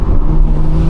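A loud BMW engine hums and revs steadily up close for a brief moment, with no voices.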